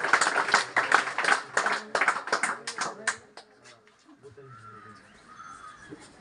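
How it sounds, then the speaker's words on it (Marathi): Audience at a school ceremony honouring high-scoring students in Sangvi Patan bursts into rhythmic group clapping for a few seconds, fairly close and loud, then it fades into quieter room noise and faint talk. "सर्वांनी पुन्हा एकदा 3 टाळ्या स्वागत करायचे."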